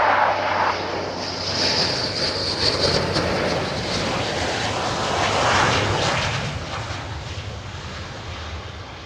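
A low-flying military jet, an F-15E or F-35A, passes over RAF Lakenheath, a loud broad engine roar that swells and slowly fades across several seconds, heard outdoors without talk.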